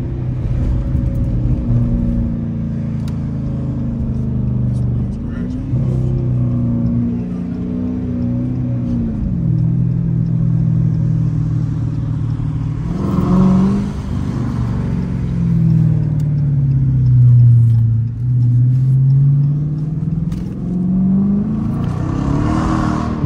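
A Dodge Challenger R/T drives through city streets with a deep, loud engine rumble heard from inside. The revs repeatedly climb and fall as it accelerates and shifts, and there is a strong surge partway through.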